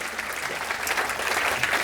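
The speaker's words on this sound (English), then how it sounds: "Go on, clap for us, because we deserve it." Audience applause at a live science festival talk, a steady, dense wash of clapping from a crowd that holds evenly throughout.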